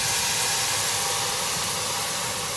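A steady, loud hiss of steam inside a bread oven fills the whole moment, broad and continuous with no breaks or voices.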